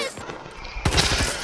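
Several quick gunshots from a GEW-46 assault rifle firing high power rounds in Battlefield 2042, a short close burst of sharp cracks that starts partway in, with no talk.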